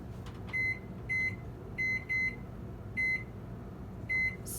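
An oven's control panel gives six short, clear electronic beeps at uneven intervals while a timer is set for baking banana muffins, over a low steady kitchen hum.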